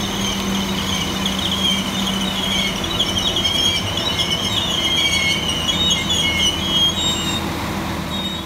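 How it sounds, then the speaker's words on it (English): Transport for Wales class 197 diesel multiple unit pulling into a station platform, a loud steady rumble of engine and wheels with high metallic squeals from the rails throughout, no voices. "here comes 197116, working the 61710 Transport for Wales service from Llandudno through to Manchester Airport"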